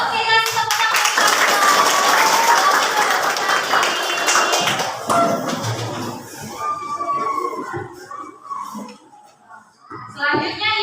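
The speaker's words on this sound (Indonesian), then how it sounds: "Oke, kasih tepuk tangan." A class or group applauding together in a school setting, dense and loud clapping that fills the opening seconds, then thins and fades as voices and other room sounds take over.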